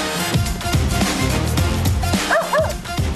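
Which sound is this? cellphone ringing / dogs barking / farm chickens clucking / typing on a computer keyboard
dogs barking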